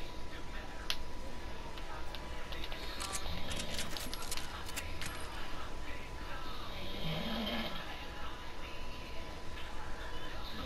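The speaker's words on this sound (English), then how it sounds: "Who the fuck is snoring like that" Someone snores loudly and steadily through a noisy room, with rough low rasping breaths running the whole time and scattered clicks and voices in the background.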